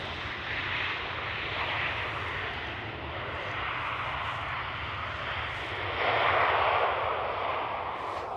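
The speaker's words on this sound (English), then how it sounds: "Also using quite a lot of thrust reverser there." An Embraer E190 airliner lands at Schiphol with heavy thrust reverser use, a loud sustained broadband roar that swells toward the end, heard from a distance outdoors.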